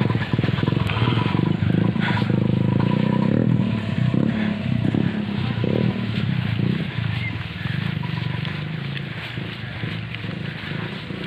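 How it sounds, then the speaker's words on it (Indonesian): Motorcycle riding along a road, its engine and wind rumbling loud and close in a steady, unbroken roar for the whole stretch. "Numpak motor."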